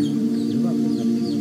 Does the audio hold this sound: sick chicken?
yes